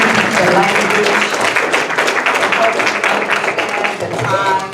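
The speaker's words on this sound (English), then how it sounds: "Clap it up for these voices that are going to use the language" Audience applause at a mental health workshop, a dense, steady clapping that holds strong throughout, with voices mixed in.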